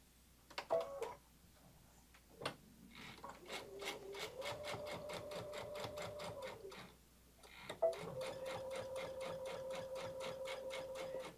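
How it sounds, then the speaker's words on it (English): A domestic sewing machine sews a scant quarter-inch seam at a 2.5 stitch length, then back stitches: two sustained runs of rapid rhythmic clatter with a humming motor, separated by a pause and a few clicks, close up. "I just back stitched over it just to kind of give it additional stability"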